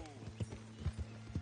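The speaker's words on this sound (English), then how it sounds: "We're just going at this nice, steady trot." Hooves clip-clop in a steady trot from a horse in a video game, several soft thuds spaced evenly over a low hum, with a voice talking faintly alongside.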